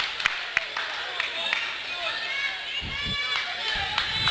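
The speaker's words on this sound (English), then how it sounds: "A lot of instruction from the crowd I'm hearing." High school wrestling crowd in a gym yelling instructions at a wrestler during a Glacier Peak versus Snohomish match, a busy wash of overlapping shouts with scattered claps and thuds from the mat.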